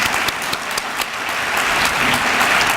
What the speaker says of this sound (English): I ask for one big round of applause to honor not only our award recipients today, but also our retiring